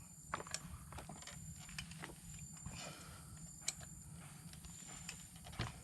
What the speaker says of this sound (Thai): ทีนี้ก็เพิ่มความตึงของน็อต